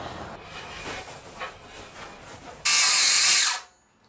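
Metal grinding on a 150-year-old vise being restored: after faint scraping and handling noises, a loud, harsh burst of grinding roars for about a second, then cuts off abruptly into near silence.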